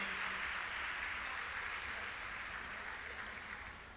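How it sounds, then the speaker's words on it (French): Faint, distant applause from the audience at a show jumping prize ceremony in Bordeaux honours agricultural school students, a soft even patter slowly tapering off over four seconds. "je crois que vous pourriez les applaudir, tous ces jeunes du lycée agricole de Blanquefort"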